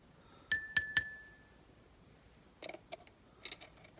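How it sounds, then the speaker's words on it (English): Small glass windows from a die-cast Dinky HS125 Dominie jet model clink sharply three times in quick succession, then a few fainter, duller taps and clicks follow after a quiet gap. "Okay, we've cleaned up our HS125 Dominie Jet windows. We're just going to give them a dunk."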